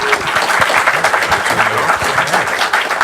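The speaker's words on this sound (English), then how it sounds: "let's give a round of applause" An audience at a bronze bust unveiling in a museum gives a round of applause, a close, loud patter of many hands clapping with a few voices mixed in.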